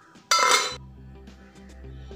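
A lid set down over a pot of rice flour dough makes a brief, bright metallic clank with a short ringing clatter, followed by a low hum.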